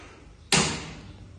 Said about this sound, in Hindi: उमार खोली दरवाजा